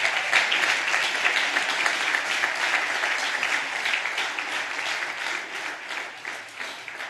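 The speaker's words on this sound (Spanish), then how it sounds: "démosle un aplauso al Rey bendito que nos da de su agua" A church congregation applauds steadily after a preacher's call, many hands clapping in a dense, even wash of sound that holds at a fairly loud level throughout.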